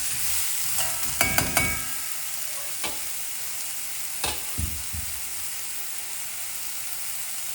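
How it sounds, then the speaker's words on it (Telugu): Cauliflower and potato frying in oil over a high flame, a steady broad sizzle with a few sharp clicks and scrapes from stirring near the start and middle, close and alone without talk. "బాగా ఫ్రై చేసుకుంటా."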